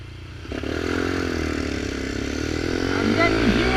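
A Kawasaki Ninja with a straight-pipe sport exhaust revs steadily and loudly, its engine note rising toward the end, with people talking over it.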